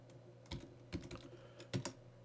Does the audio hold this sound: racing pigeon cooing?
no